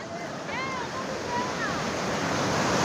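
Sea waves wash onto Marina Beach in Chennai during rainy weather, a steady broadband surf roar with wind buffeting the microphone. Gull-like chirps and a voice come through faintly over the water.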